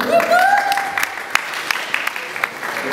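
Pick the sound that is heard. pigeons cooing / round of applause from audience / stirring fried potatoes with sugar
round of applause from audience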